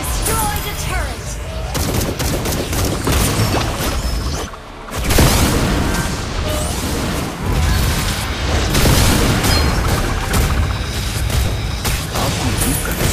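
Turret destroyed in a video game, heard as a dense, loud wash of booming blasts and crashing impacts layered over game music and effects, with a brief dip partway through before the roar surges back.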